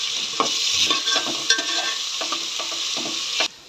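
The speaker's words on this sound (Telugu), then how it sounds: "అల్లం పేస్ట్ వేసి పచ్చి వాసన పోయేంత వరకు వేపుకోండి చక్కగా ఈ రకంగా" Ginger paste frying with onions and chillies in hot oil for a village-style gongura chicken curry, a steady close sizzle with repeated scraping stirs of a spoon against the pan.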